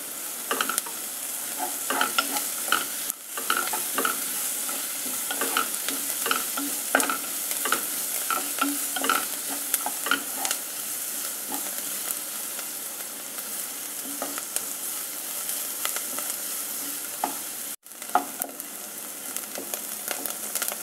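Cumin seeds fry in hot oil in a pan for a North Indian white chickpea masala, a steady close sizzle with frequent stirring clicks throughout and one brief drop near the end, no voices.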